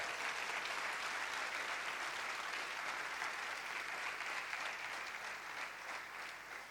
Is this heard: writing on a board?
no